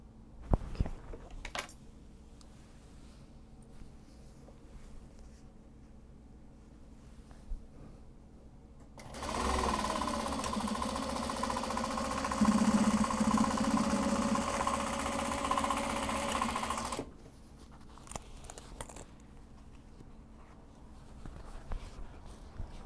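A sewing machine stitches the seams of a welt pocket on a small traveller bag, running in one steady, fairly close burst of about eight seconds with quiet room sound on either side.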